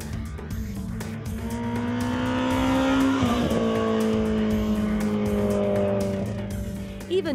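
A BMW E30 M3 races on a track, its engine revving hard and rising in pitch as it accelerates, close and loud throughout with faint tire noise underneath.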